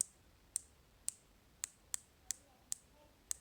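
The chunky unidirectional bezel of a Louis Vuitton Tambour Diver II watch clicks sharply as it is turned, eight crisp, close ticks spaced unevenly over a quiet background.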